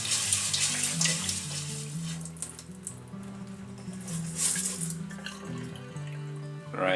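Water from a kitchen faucet pours steadily over rice being rinsed in a bowl, a continuous hiss and splash at moderate level with shifting tones as the stream hits the grains.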